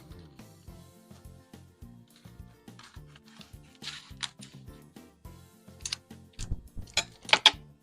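Scissors cutting paper while making a slimline shaker card, a series of crisp snips that build into several sharper, louder cuts near the end, close and alone.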